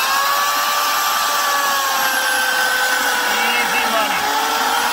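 A Homelite 12 amp 16-inch electric chainsaw runs at a high, steady whine while cutting through a big, heavy hard tree, loud and close with no drop in pitch from bogging.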